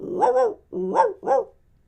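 A dog barks three times close by, loud and clear: two quick barks, a short gap, then a final bark, with nothing else in the background.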